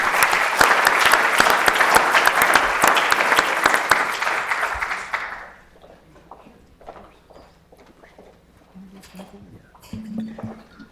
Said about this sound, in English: Just a huge round of applause,